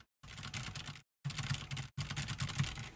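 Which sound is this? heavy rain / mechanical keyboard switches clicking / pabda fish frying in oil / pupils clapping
mechanical keyboard switches clicking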